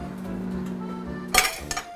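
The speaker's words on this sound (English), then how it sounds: "Stirring frequently." Thick-cut bacon lardons stirred in a dish during microwave cooking, a soft hum followed by a few sharp clinks and scrapes of a utensil against the dish near the end.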